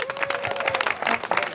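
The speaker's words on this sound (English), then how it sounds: "Can we give them another round of applause?" An audience claps after a community arts evening in Kaysville, a short burst of mixed hand claps with a sustained tone and some crowd noise running underneath.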